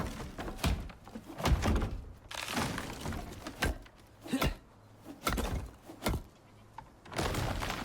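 A ramp structure being destroyed in the survival video game ICARUS, a run of heavy thunks and cracking breaks repeating at close range, each burst loud and separated by short gaps.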